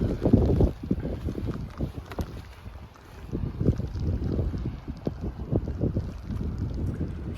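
Gusty wind buffets the microphone outdoors on a rainy hillside near water, a steady rough roar with louder blustery bursts throughout, no voices.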